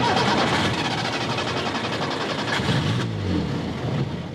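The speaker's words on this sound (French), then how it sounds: "pour que ça excite le moteur à vite démarrer" An old car, scarred by twenty years of rough forest tracks, cranks and its engine catches beneath a loud, steady wash of broadband noise. A low, rumbling turnover rises near the end. No one speaks.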